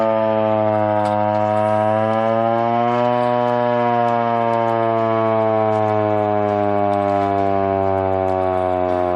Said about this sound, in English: So British soldiers used to use this siren during Second World War.